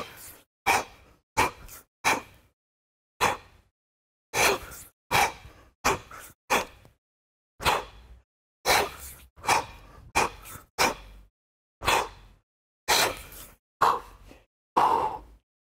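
Heavy, forceful breaths puff out in a steady rhythm during a kettlebell clean and jerk, each loud exhale separated by short silences, close to the mic with no talk.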